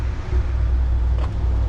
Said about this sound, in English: Nah, it's a truck going by.